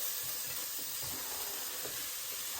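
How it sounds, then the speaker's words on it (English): Chopped onion frying in a little oil in a pan, a steady broadband sizzle and hiss with faint crackles throughout, close and even in level. "I'm going to throw my onion in there just to fry, just soften it for about 5 minutes"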